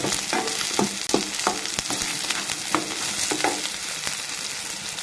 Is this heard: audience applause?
no